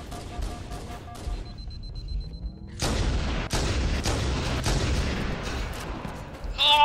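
Rapid sniper and rifle gunfire from the Halo MCC Team Snipers multiplayer match, sharp cracks and booms piling into a dense, loud barrage after a brief quiet stretch.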